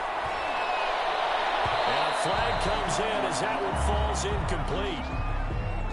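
Home stadium crowd in a Madden football video game roars steadily beneath a play-by-play commentator as a pass falls incomplete and a flag comes in, the cheering swelling in waves throughout.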